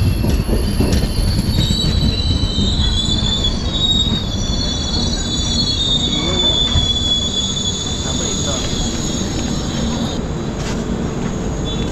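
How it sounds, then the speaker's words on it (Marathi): Coaches of the Diva passenger train roll past at a Konkan Railway station near Sangameshwar, wheels squealing loudly and steadily against the rails over a heavy, continuous rumble, close by throughout. "दिवा पॅसेंजर आले."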